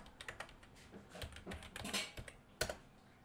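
A password is typed on a computer keyboard in a quiet room, with soft, uneven keystrokes and one sharper key press near the end.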